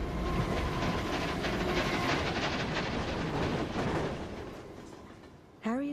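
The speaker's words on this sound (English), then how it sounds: "Steam trains speed along railroad tracks." A steam train speeds along railroad tracks with a loud, rhythmic rumbling clatter that gradually fades away, followed by a brief voice at the very end.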